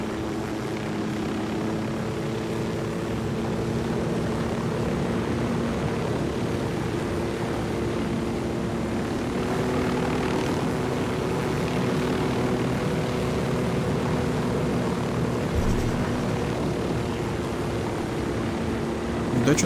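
A helicopter in the video game Ghost Recon Wildlands gives a loud, continuous rotor and engine drone, with a voice speaking over it.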